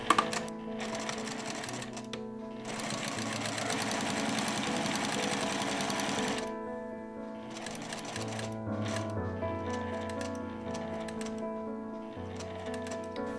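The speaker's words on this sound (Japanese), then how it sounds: "これでフリクションで描いた空きの形の通りに縫っていきます" Sewing machine stitching fabric along a line drawn in erasable pen, running in bursts of rapid mechanical chattering with short pauses between, close and steady, the needle's rhythmic clatter clear against quiet background music.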